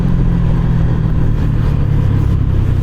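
A Honda Winner X motorcycle with an aftermarket exhaust rumbles steadily while riding, a loud, close, low engine drone with constant throttle and no speech.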